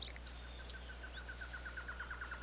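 Faint, repeated high chirps of small birds in The Legend of Zelda: Skyward Sword, in a regular pulsing series over a low steady hum, with no talking.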